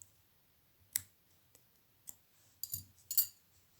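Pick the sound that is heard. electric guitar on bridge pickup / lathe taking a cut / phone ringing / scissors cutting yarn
scissors cutting yarn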